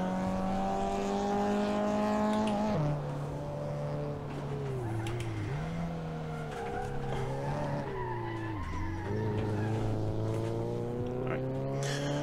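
A Polo N6 race car lapping a track in Assetto Corsa, engine droning loudly with a steady pitch that drops on gear changes and rises again under acceleration, plus occasional tire squeal, alongside a faint voice.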